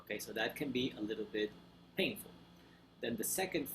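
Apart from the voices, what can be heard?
No everyday noises stand out.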